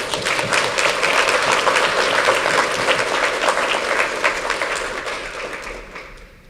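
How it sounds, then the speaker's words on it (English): A community anniversary gathering's audience claps in sustained, dense applause, loud and steady at first, then gradually thinning and fading away near the end. "So, big round of applause."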